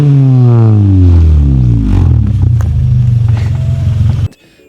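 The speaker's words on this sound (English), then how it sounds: "we did install a spoon exhaust, so a little bit of pep, a little bit of more sound" A Honda Civic Type R EK9 with a Spoon exhaust, loud and close, its revs sweeping down from a high pitch into a rough, rumbling idle before the sound cuts off abruptly.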